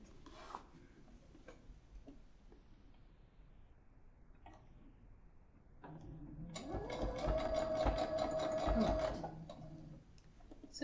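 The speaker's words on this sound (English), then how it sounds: "Right, we're just going to sew this together." A sewing machine stitches fabric for a horseshoe bag, starting with faint ticks and taps, then running in a steady, loud mechanical whir for about three seconds before stopping.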